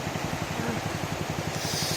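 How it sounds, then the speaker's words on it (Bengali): A boat engine putters near a quiet Mandarmani beach, a steady, rapid low chugging with an even rhythm, moderately loud, with a soft wash of sea behind it. "ওই কোথা থেকে একটা নৌকা চালু হলো, ফটফটির আওয়াজ আসছে।"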